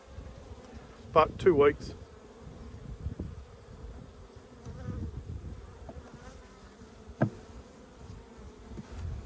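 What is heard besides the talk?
honey bees buzzing around an opened beehive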